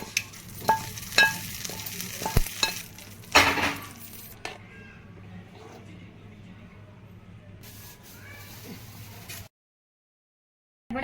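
Bitter gourd vadas sizzle in hot oil, a steady crackling fry with a few clinks and a louder scrape early on, before the sound cuts out abruptly into silence.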